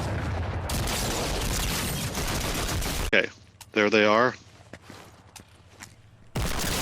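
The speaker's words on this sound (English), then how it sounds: "Tagged with the hand cannon." Hand cannon gunfire in the Fortnite video game, heavy broadband shots and explosive bursts filling the first three seconds and returning at the end, with a brief spoken voice and game sounds in the quieter middle.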